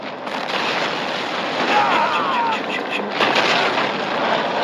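Gunfire and battle noise from the World War tactics game Men of War, a steady dense wash of shots and explosions running throughout, loud and continuous with a player's voice faintly over it.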